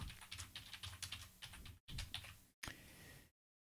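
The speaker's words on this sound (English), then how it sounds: "I'm going to type my password again" Rapid clicking keystrokes on a computer keyboard as a password is typed, quiet and close, in three short bursts separated by brief silences.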